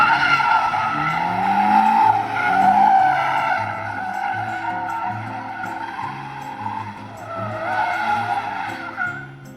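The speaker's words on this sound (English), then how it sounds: "I would just do singular donuts one way, then the other way." Car spinning donuts in an empty parking lot with traction control off, tires squealing in a loud continuous wavering screech over a steady engine drone, close and without talk.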